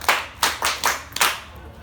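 A classroom of students clapping hands together in unison for a classmate, five or six sharp, evenly spaced claps close by, then fading.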